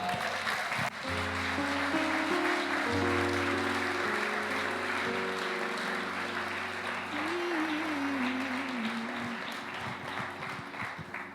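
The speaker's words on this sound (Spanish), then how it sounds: "dar un fuerte aplauso" A church congregation at IBN Lugo breaks into loud applause that holds steady, with sustained musical tones and a voice sounding underneath.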